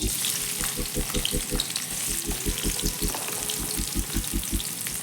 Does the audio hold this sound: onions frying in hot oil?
yes